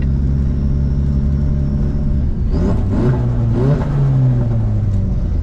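Turbocharged car engine accelerating on its first test drive: a steady loud rumble that climbs in pitch through a couple of quick revving sweeps, close and without speech.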